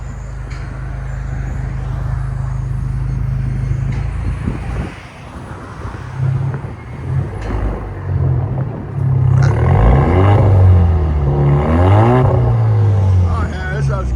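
A 2019 Alfa Romeo Giulia with the muffler and resonator removed for a fully straight-pipe exhaust idles with a deep rumble, then is revved in rising surges, close by, while people talk over it.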